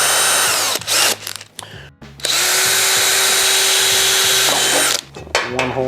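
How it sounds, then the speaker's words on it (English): A power drill fitted with a small pilot bit bores a starter hole into a block of 4x4 wood. Loud whirring bursts stop and start, then one long sustained run follows, with brief clicks between them. "I have a tiny little pilot drill bit, and that's to get the hole started"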